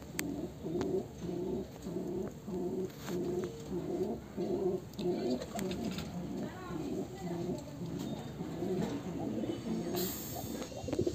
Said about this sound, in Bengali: এর মাদা পায়রাটি দেখাচ্ছি, দেখতে থাকুন।